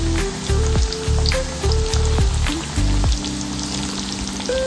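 Village-style chicken kebab frying in oil on a medium flame, a loud close crackle and sizzle with a rhythmic thumping and tonal beeps cutting in and out.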